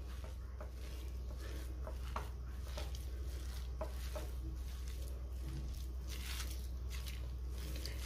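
Thalipeeth dough of rice, jowar and besan flours is mixed by hand in a bowl, giving soft, faint squishing and patting sounds over a low steady hum.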